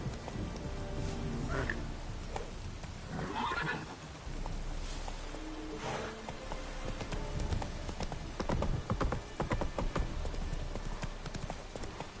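Hooves of the horse Roach clip-clop steadily at a walking pace in the video game The Witcher, with occasional neighs and whinnies mixed in over a busy game background.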